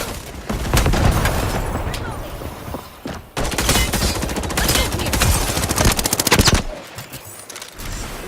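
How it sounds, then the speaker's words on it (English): Rapid automatic gunfire and booming blasts in a combat video game firefight, loud and sustained bursts with a heavy grenade explosion among them, a brief lull near the end. "Throwing a grenade!"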